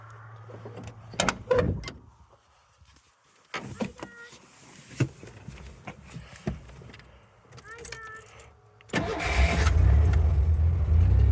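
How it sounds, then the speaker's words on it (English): A 1989 Ford Bronco with its air cleaner removed cranks over and catches, then settles into a loud, steady idle for the final few seconds. Keys jingle and doors or windows clatter before the start. "let's go ahead and give this thing a cold start"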